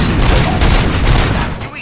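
Gunfire rattles in the video game RoboCop: Rogue City, a loud dense burst of rapid shots and booms filling the whole moment before tapering slightly at the end.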